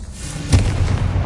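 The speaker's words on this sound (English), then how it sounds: "Confringo!" Confringo fire-blast spell exploding in the Hogwarts Legacy video game, a single sudden booming burst followed by a rumbling low tail, brief and fairly loud.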